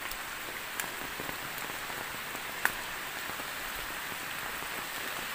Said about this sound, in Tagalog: Bumagsak ang ulan.